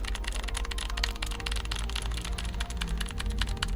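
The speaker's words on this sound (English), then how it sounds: "It literally just sounds like red switches." Fast, continuous typing on a MageGee MK-Mini 60% mechanical keyboard with red switches, a dense run of close, soft clacks with no talking.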